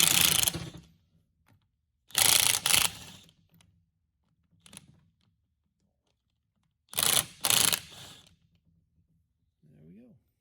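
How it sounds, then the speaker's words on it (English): An impact wrench fires in several short, loud bursts while removing the cap on a Rockwell brake caliper from a 1995 Prevost coach, with quiet pauses between the bursts. "That's best done using a torque and impact wrench."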